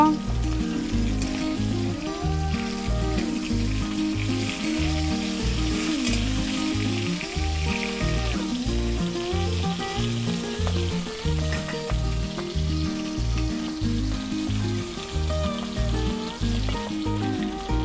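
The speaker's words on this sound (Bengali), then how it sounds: "তাহলে বন্ধুরা আমার মাছ ভাজা হয়ে গেছে" Rohu fish frying in oil in a pan, a loud continuous close-up sizzle with crackling spatter holding steady throughout.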